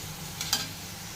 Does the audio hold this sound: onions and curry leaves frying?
yes